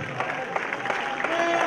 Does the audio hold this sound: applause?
yes